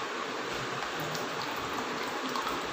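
Water pours steadily into a vessel for a sick person to drink, a continuous close, hissing splash with no pauses.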